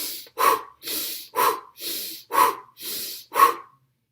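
A series of deep breaths, about seven strong, evenly spaced inhales and exhales, loud and close to the microphone with no talk.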